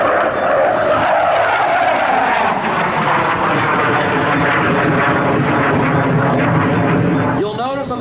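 An A-4 Skyhawk jet at a Lemoore NAS air show demonstration roars loudly and steadily as it passes, with a shifting whine near the end and an announcer talking over it.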